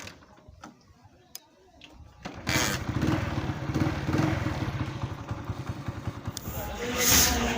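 A motorcycle ridden on a road, the engine's steady drone and rattle rising loudly after a quieter start with faint clicks, continuing close and constant to the end.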